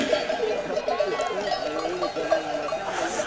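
A transhumance flock of sheep with goats walking among them, at a festival in Die, gives a continuous mix of tinkling bells and bleats close by, with voices in the background.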